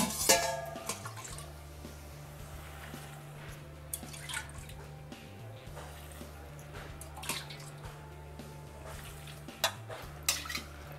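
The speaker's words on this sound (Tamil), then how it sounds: "இது முங்குற அளவுக்கு தண்ணி ஊற்றிடுங்க." Water poured into a pot over chopped banana stem with salt for soup, a steady low splashing and trickling with occasional clinks of utensils, close by and without talk.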